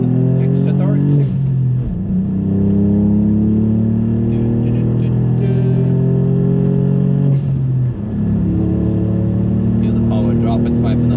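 A car engine on the Nürburgring pulls hard and loud throughout, its pitch climbing steadily then dropping sharply at each upshift, near 2 and 8 seconds, with voices talking over it.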